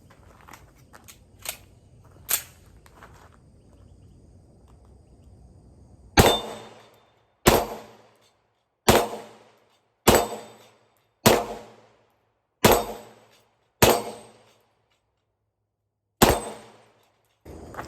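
A handgun fires eight sharp, evenly spaced shots at steel dueling tree targets 15 yards downrange, each loud crack followed by a quick metallic ring. Fainter clicks and handling noises come before the string.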